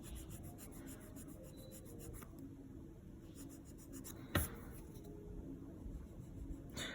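Steady rasping of a nail file working across hard skin and the nail during a gentle manicure, a soft continuous scrape with a brief sharper tap partway through, close and alone.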